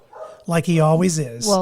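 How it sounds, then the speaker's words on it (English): A pet dog barks several times in quick succession close by, answering neighbouring dogs, while a person talks over the barks. "the neighbor's dogs are barking, so he's going to bark"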